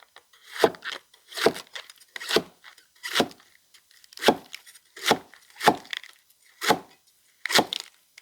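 Knife chopping through rolled egg rolls on a cutting board in a Khmer home kitchen, about nine evenly spaced crisp cuts with short pauses between them, close and clear with no talking.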